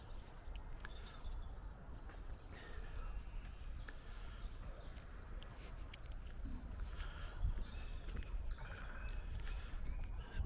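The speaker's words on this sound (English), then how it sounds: "Some birds are singing, a woodpecker making its usual noise." Birds chirp and sing in short high phrases over a low outdoor rumble in the Cotswolds countryside, with occasional soft knocks from a woodpecker in the background.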